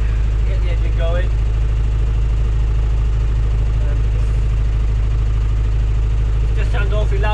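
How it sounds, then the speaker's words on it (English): A sailboat's engine runs at sea far offshore, a loud steady low drone throughout, with people talking briefly over it. "As you can hear from the background, we've got the engine on"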